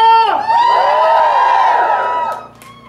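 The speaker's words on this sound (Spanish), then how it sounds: "se dice grito de júbilo" A church congregation at a Spanish-language sermon lets out a loud, sustained shout of joy, a crowd of voices swelling together and then fading after about two seconds.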